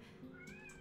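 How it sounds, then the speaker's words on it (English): A house cat gives a single short meow, faint and somewhat distant, over a quiet background. "That was my cat in real life."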